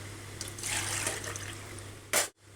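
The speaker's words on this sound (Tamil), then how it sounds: "தண்ணி ஊற்றிக்கலாம்." Water is poured into a cooking pot of radish gravy with ground coconut and fennel: a soft, continuous splashing pour, then a short louder gush before it stops abruptly.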